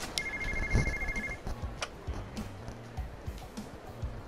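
A portable bag phone rings in the video game Yakuza 0 with a short electronic trilling tone lasting about a second, then fades under quieter game background sounds and low murmurs.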